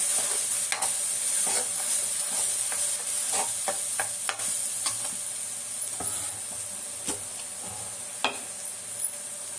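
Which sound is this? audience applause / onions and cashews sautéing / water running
onions and cashews sautéing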